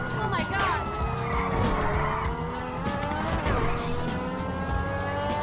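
A car in the video game GTA 5 roars along with a constant engine drone, squealing its tires through repeated skids. The sound is loud and dense throughout, with a voice talking over it.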